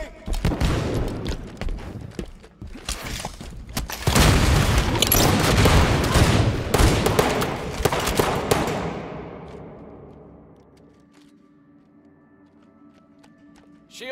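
In the video game Halo CE, a dense barrage of gunfire and grenade explosions rumbles loudly, peaks in a heavy blast cluster, then fades into quiet.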